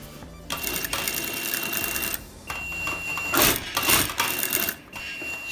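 A sewing machine runs in bursts as it stitches a seam along a blouse back with an invisible zipper, fast rattling needle runs separated by short pauses for reverse stitching, close and moderately loud, no talking.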